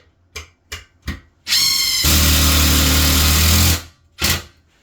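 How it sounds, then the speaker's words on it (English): A few short taps, then a power drill whines up and runs loud and steady for about two seconds before stopping, followed by another brief burst, while building closet shelves. "That drill is very bothersome. It's too loud."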